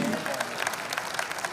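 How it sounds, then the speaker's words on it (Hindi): Loud applause from a large crowd at a live music and comedy event, a continuous dense roar of clapping with occasional sharper claps, close and filling the whole moment. "जोरदार तालियां प्लीज।"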